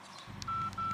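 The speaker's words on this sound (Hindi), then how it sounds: "लगाओ नंबर लगाओ" Telephone keypad tones beep as a number is dialed, a few short DTMF pulses followed by two longer steady tones, close and fairly quiet.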